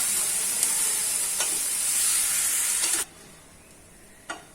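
Vegetables and beetroot being stirred together for a veg frankie filling, a steady sizzling hiss with a few scrape clicks that cuts off sharply partway, leaving quiet with one more faint scrape.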